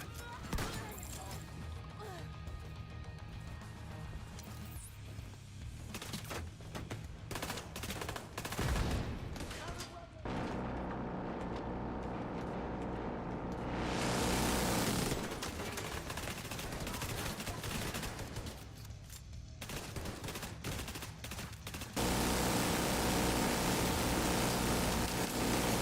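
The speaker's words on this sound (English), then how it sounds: "Minigun power restored." A minigun in The Division 2 video game fires in long continuous roaring bursts mixed with heavy crashing gunfire, loud and sustained across the whole stretch.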